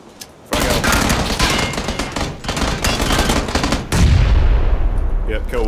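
Video game combat with a frag grenade thrown: dense, loud sustained gunfire bursts crackle nonstop, then a heavy booming explosion lands near the end under continuing shots, with faint voices underneath.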